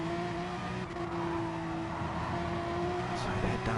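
Porsche GT race cars lapping Spa-Francorchamps in a racing game, a steady droning engine note holding at one pitch, moderately loud, with faint commentary underneath.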